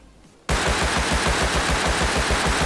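After a quiet moment, a Thompson submachine gun in the video game Rust opens up in one loud, sustained automatic burst of rapid, evenly spaced shots.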